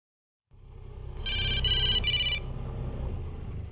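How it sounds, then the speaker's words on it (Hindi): A telephone rings in three quick electronic bursts over steady low background hum, clear and fairly close, with no speech. "अमन को फोन लगाती हूँ।"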